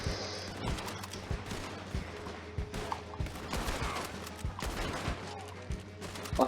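Gunfire in Red Dead Online, a western video game: scattered sharp shots with a few quick bursts, moderately loud over a busy game background with occasional hoof-like clatter.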